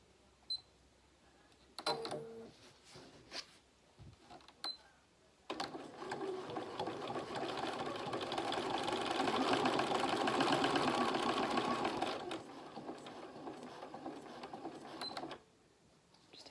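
A sewing machine stitches fabric for a blue tit fabric collage. A few short starts give way to one long, steady whirring run with a rapid mechanical chatter, close and fairly quiet.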